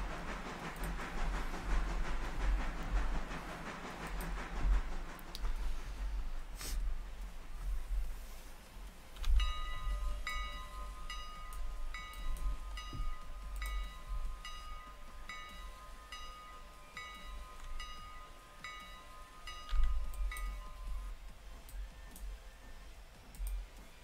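A passenger train pulls in within the railway game Railroader, with a steady low rumble, hissing steam, metallic clicks and a sustained bell-like tone in the middle section, continuous and fairly close.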